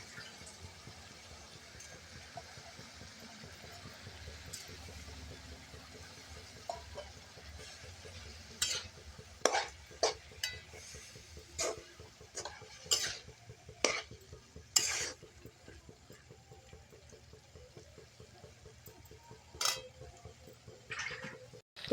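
Moong dal tipped into a pan of cooking dill greens and stirred, with a steady low sizzle under a run of sharp, close spoon-on-pan scrapes and clinks in the second half.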